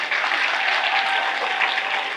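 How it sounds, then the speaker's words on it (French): Audience applauding at a presidential installation ceremony, a steady dense wash of clapping from a large crowd with no gaps. "Des applaudissements, s'il vous plaît."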